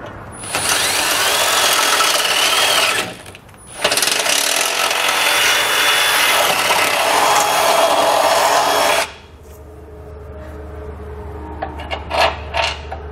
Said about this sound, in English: take a 1/2-inch drill bit and just wallow the hole out just big enough